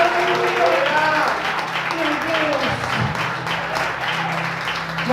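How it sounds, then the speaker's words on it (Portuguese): Continuous congregational clapping fills a church service, a broad wash of applause under a preacher speaking and calling out over the crowd. "você pode aplaudir ao Senhor da glória"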